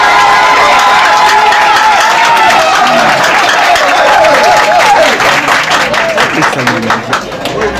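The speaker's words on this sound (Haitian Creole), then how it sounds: "Un gros applaudissement pour mesdames." A conference audience breaks into loud applause for the women present, with dense clapping and cheering voices rising in a crowd, sustained close and full before thinning toward the end.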